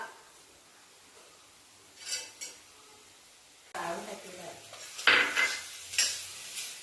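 Quiet scraping and clinking of a spoon stirring egg yolk into sautéed masala in a pan, a few soft strokes followed by louder scrapes and taps against the metal.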